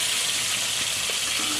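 Fish pieces fry in hot oil in a pan for fish curry, giving a continuous close hiss and sizzle with faint crackles underneath.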